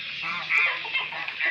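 Chinese geese honk nearby, a loud nasal burst of calls over a noisy, hissy background, brief and close.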